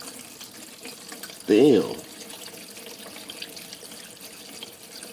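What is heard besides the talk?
engine oil draining from BMW M550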